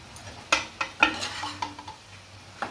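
Mushrooms and paneer stirred and frying in an oily pan, a spatula scraping and clinking in several distinct strokes over a low steady sizzle, close and fairly quiet with no talking.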